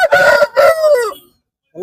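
A large rooster crows loudly and close at a Tuesday livestock market in Erode district, two strong rising calls followed by a sustained tail, ending in silence before another bird sound begins.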